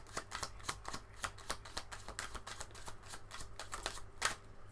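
Tarot cards are shuffled and pulled, with a steady run of quick, close riffling snaps and soft slaps repeating throughout, with no talking.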